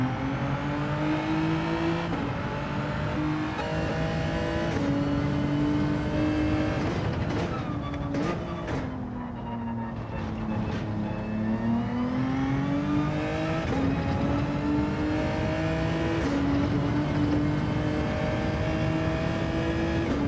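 An Audi DTM race car in Gran Turismo 7 revs hard from inside the cockpit, with a loud, continuous engine note that climbs through the gears. Each shift brings a brief dip before the pitch rises again.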